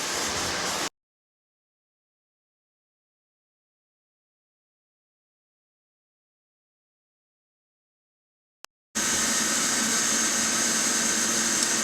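Welding a patch onto rusted sheet metal: a loud, steady crackling hiss sounds in a short burst at the start, then silence for several seconds before a longer sustained burst at the end.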